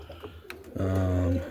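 Roller pigeons in a winter loft giving a close, low throaty coo that swells for about half a second after some soft rustling and faint background noise.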